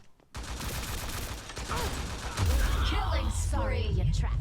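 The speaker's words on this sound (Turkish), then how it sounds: "Kim vuruyor?" Gunfire in the video game T3 Arena: a dense, continuous rattle of rapid shots with whooshing effects and booms, growing louder midway, with someone talking over it.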